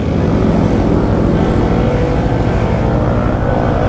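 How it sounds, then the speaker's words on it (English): Loud, continuous engine roar from motorbikes close by in Manado, North Sulawesi, droning without pause. "the noise of the motorbikes here is absolutely unbelievable"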